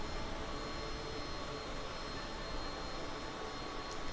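Aircraft engine in the flight simulator game Microsoft Flight Simulator 2020, a steady broadband roar that holds constant and unbroken at a moderate level.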